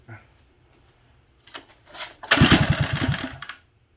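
A small minibike engine with the choke on is pulled over, giving a couple of short sputters before it catches and runs loudly and roughly up close for about a second, then stops.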